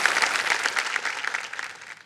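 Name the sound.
audience applause for contestant's family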